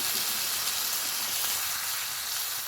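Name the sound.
water added to curry cooking in hot pan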